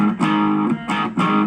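Distorted electric guitar through a Korg AX3000G multi-effects amp simulation, three thick crunchy strummed chords in quick succession, each ringing briefly before the next, loud and close with no voices.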